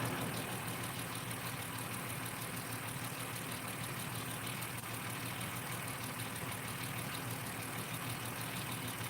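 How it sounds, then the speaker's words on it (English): A Ford engine with clattering fuel injectors idles in a repair shop. A steady, dense mechanical running hum continues without change, with a faint rapid ticking clatter mixed into the drone. "I can hear the injectors. Oh yeah, they're definitely clattering away."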